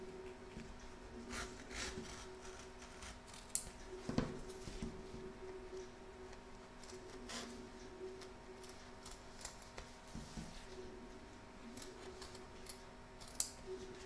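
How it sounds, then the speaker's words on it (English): Scissors snipping through fabric around the edge of an embroidery hoop, a soft rasping rub of blades with a few sharper clicks, close and quiet, with no talking. "turn your hoop over and trim around the edge"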